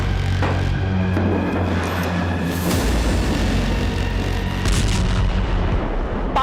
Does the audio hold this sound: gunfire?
yes